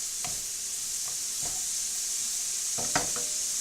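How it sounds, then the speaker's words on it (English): Garlic, onion and pepper sizzling steadily in a pan for lasagna sauce, with a few scraping stirs of a utensil cutting through the constant hiss. "Now I'm going to add the garlic, since the onion and pepper's got a head start. Mix that up a little bit."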